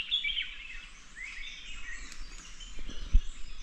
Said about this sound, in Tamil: பறவைகளோட சத்தம் பார்த்தீங்களா